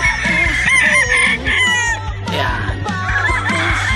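Gamefowl roosters on a game farm crowing loudly and close, several long crows overlapping with clucking between them, and a voice briefly speaking.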